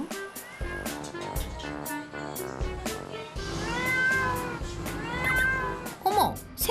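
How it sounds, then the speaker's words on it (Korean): A small white kitten on a rooftop gives several high, wavering meows, close and clear, while a voice narrates over them. "어머, 새끼 고양이?"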